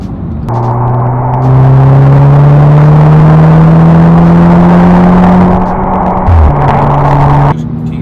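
VW Golf MK6 R from 2010 with a KO4 turbo and DSG gearbox accelerating hard in sport mode, a loud engine note that climbs steadily, then drops sharply at a gear change before pulling again and cutting off.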